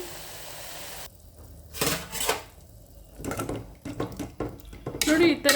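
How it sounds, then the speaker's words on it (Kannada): Water splashes and pours in short bursts into a metal pressure cooker, with clanks of the cooker between the pours. "ಇದಕ್ಕೆ ನಾನು ಒಂದು ಎರಡು ಲೋಟದಷ್ಟು ನೀರು ಹಾಕಿಬಿಟ್ಟು"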